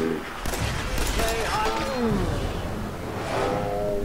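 Gunfire in Fallout 4 during a fight with a boss in Diamond City, a loud rapid fusillade of shots and impacts, with someone speaking over the shooting.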